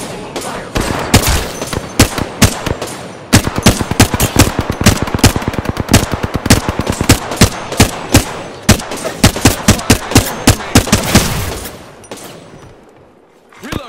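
Gunfire in the video game Apex Legends: long, loud bursts of rapid automatic shots in a fast, even rhythm, close and dominant, with brief pauses between volleys before fading out at the end.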